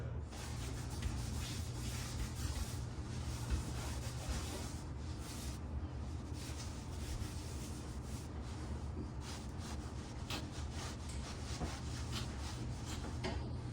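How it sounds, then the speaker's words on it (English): A damp rag wipes the inside of an oven door's glass, giving a steady, close-up rubbing and scrubbing sound that continues without pause for the whole stretch. "This one wasn't that bad, so just wiping it off while I'm holding it is okay."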